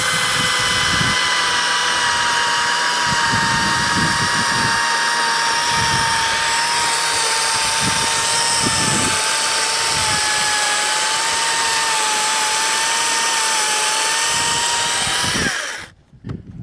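A chainsaw runs at a high, steady whine while cutting a hay bale into sections, loud and close for about fifteen seconds before cutting off abruptly.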